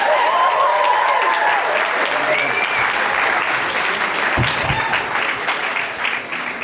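Loud, sustained applause from an audience at a student animation awards ceremony, a dense wash of many hands clapping at once that holds steady throughout and eases slightly toward the end.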